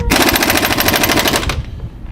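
A pneumatic impact wrench hammers a lug nut loose in one rapid, loud, rattling burst of about one and a half seconds, then stops abruptly, leaving faint background noise.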